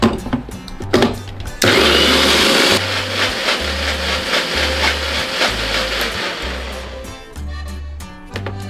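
A kitchen mixer grinder whirs loudly in a short burst after some clunking, spinning lukewarm milk, its motor pulsing in a low repeated pattern before stopping with a rattle.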